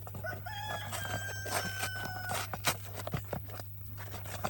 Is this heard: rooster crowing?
yes